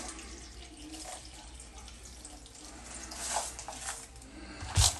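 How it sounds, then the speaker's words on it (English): Vinegar is poured over a pile of pennies to soak them, a soft, steady trickling and splashing of liquid close by, rising slightly midway and ending with a brief louder splash or clatter. "Pour my vinegar in and let it soak."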